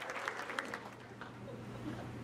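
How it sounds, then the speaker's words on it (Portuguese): Audience applause at a live hypnosis comedy show, fairly faint and steady with a few sharper claps standing out, a low hum running underneath throughout. "uma salva de palmas, valeu!"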